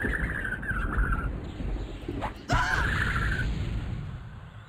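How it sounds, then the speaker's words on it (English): A crag warrior monster in EverQuest lets out a thin, chick-like squawk, a short high chirping call heard twice over a low game background rumble. "Why does this crag warrior sound like a baby chicken? He just has such a unintimidating squawk."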